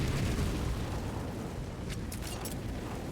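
Grenade explosions in a CS:GO match on the Vertigo map, a dense rumbling blast and sustained roar that fades slightly, followed by a few crisp high clicks near the end.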